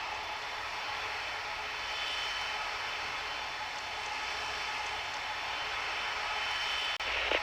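A jet airliner takes off in the air traffic control game Tower! Simulator 3 at Zurich airport, a steady, loud engine roar and hiss that holds on throughout, with a brief click near the end and no talk.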